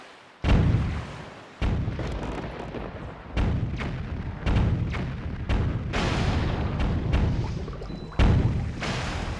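Wall-mounted cannons fire on a ship in a video game, about eight heavy booming blasts at irregular intervals, each with a rumbling tail that overlaps the next.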